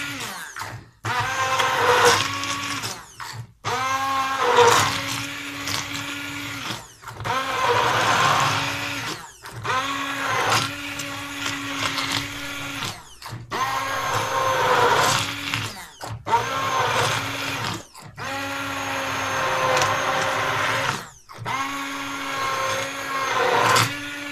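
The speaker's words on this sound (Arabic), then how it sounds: "نبداو نميكسيوه بالخلاط تاعنا" An electric blender mixing carrot and yogurt juice whirs in repeated bursts of several seconds each, separated by brief pauses, its motor pitch shifting as the juice mixes.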